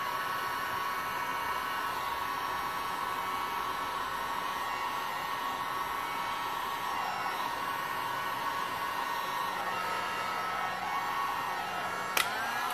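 A heat gun blows over a resin coaster, giving a steady, even airy roar that holds unchanged for the whole stretch, with one short click near the end and no voices.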